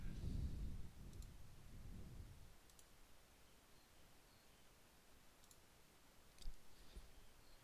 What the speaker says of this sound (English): So I'm going to click on Open Website.